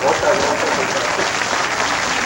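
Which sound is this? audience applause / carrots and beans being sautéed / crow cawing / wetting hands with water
audience applause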